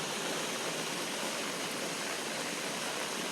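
Rainwater gushes steadily from a drain outflow in downtown Loganville during a heavy rainstorm, a dense, continuous rushing wash close by with no voices.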